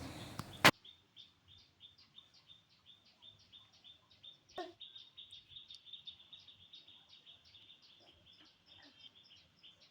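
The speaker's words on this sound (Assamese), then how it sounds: "এইফালে বাহিৰত চৰাইৰ মাত ওলাই থকা বাবে সি চৰাই চাবলৈ গৈ আছে" Birds chirp outdoors in a steady series of short, repeated high calls, fairly faint and continuing through the whole stretch, with one louder sharp knock near the start and a brief thud midway.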